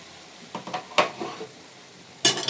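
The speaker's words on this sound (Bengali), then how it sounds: "এবার দেখতে পাচ্ছি এটা ফুটতে শুরু করেছে" Garlic mushrooms with slit green chillies start to bubble in a covered pan, giving a soft, steady sizzle broken by a few crackling pops and a louder burst of frying hiss near the end.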